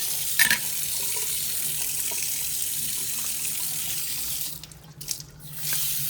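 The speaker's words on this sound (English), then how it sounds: "And just wipe the sinks out." A kitchen tap runs steadily into the sinks while they are wiped out. The water flows continuously at close range, with a brief clatter early on and a shift in the flow near the end.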